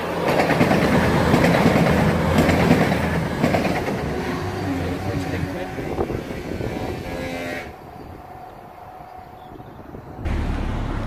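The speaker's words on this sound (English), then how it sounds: "train service from Leicester to Lincoln Central" A passenger train on the Leicester to Lincoln Central service rumbles loudly past a UK level crossing, with a heavy roar and clattering wheels fading over several seconds before the clip ends in a sudden low rumble.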